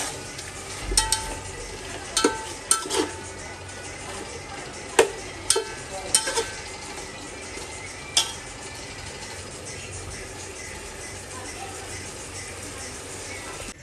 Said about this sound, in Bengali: তো এটাকে আমি কষিয়ে নেব।